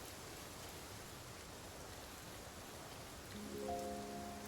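Steady rain in the video game Infinity Nikki, a soft continuous hiss of falling drops that holds evenly throughout, with a brief tonal game chime entering near the end.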